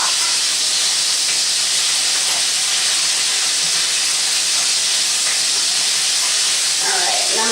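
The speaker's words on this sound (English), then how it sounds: "So what you're looking for is just a brown on each side." Meatballs browning in a hot pan give a loud, steady sizzle and hiss that carries on unbroken, close up, with no talk over it.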